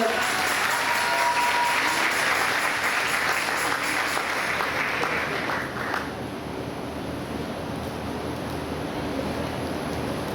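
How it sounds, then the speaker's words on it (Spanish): Audience at a testimony evening applauds to welcome a speaker, a loud dense roar of many hands that holds steady for about six seconds, then drops and thins into softer scattered clapping with faint voices. "reciban con un aplauso a Rosa Iris, por favor."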